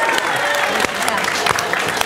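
A live audience at a comedy show claps steadily in answer to a show-of-hands question, a dense wash of applause running for about two seconds with a few voices mixed in.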